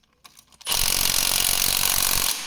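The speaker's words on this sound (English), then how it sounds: "is really struggling to get these bolts out, just not breaking them loose." A power tool strains against stubborn engine bolts, starting with a few small clicks before bursting into a loud, steady, close grinding buzz that holds for nearly two seconds and then cuts off.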